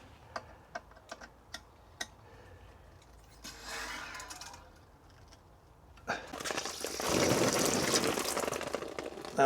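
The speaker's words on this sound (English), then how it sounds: "Let's turn the water back on." Water rushes through a drip irrigation system in a polytunnel, starting with a few sharp clicks and a brief gurgle, then a loud steady hiss of flowing water that builds to the end.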